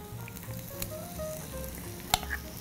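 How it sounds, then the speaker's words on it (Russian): Waffle batter sizzles steadily in a waffle iron greased with vegetable oil, a soft continuous crackle close by with one sharp click partway through and no talking. "Теперь я отправляю тесто в вафельницу, предварительно смазав, конечно же, поверхность растительным маслом."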